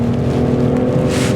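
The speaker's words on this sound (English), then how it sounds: "you can hear the engine going up, and they simulate the fake shifts really well" A 2024 Nissan Rogue Platinum AWD engine, floored in sport mode, revs hard and loud from inside the cabin as a steady, close drone with a climbing tone and no speech.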